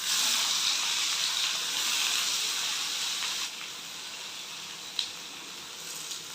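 Onions frying in hot oil in a pan for chicken pulao give a steady, close, loud sizzling hiss that eases slightly partway through, with a couple of faint clinks near the end.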